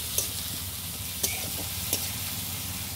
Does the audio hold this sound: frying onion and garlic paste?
yes